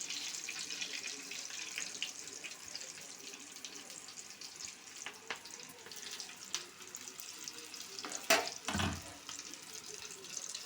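Green chillies for Rayalaseema-style mirchi bajji frying in hot oil over a high-to-medium flame give a steady, hissing bubble that runs throughout at moderate level, with a couple of sharper splashy bursts near the end.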